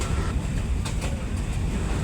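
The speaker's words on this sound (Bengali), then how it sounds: "গ্রাম থেকে এবার ঢাকায় ফিরলাম ট্রেনের মাধ্যমে" Inside a passenger train travelling from a village to Dhaka, a steady low rumble fills the carriage, with a few faint clacks over the constant roar.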